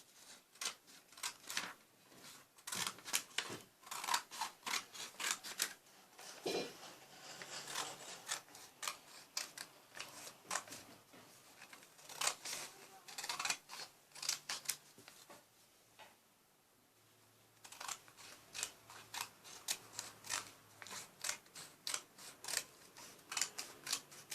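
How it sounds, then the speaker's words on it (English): Scissors snip through paper, cutting out pieces for a paper Captain America action figure. The crisp cuts come close and fairly quiet in quick, irregular bursts, with a short pause partway through and no talking. "all you want to do is cut it out"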